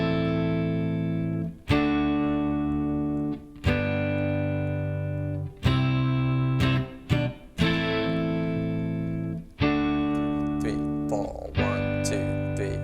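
Funky electric guitar rhythm part in the style of a song, played over looped bass chords: choppy, tightly muted strummed chords in a steady groove, close and full, with no talking.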